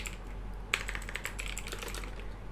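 Keyboard keys are tapped in quick irregular bursts while a DAX formula is entered in Power BI, with close, light clicks over a steady low hum and no voice.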